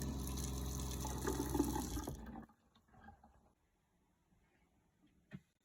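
Water running from a sink tap, a steady close rush that stops abruptly after about two seconds, followed by a few faint clatters and a small knock near the end.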